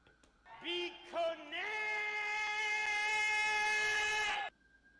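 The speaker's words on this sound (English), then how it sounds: "Here another siren, so we're going to sign out right after this passes." A siren passes outside, rising into a long, loud harmonic wail that holds steady for several seconds before cutting off abruptly near the end.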